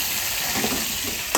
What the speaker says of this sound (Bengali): বেশ, এটা একটু কষা কষা ভাজা ভাজা হবে।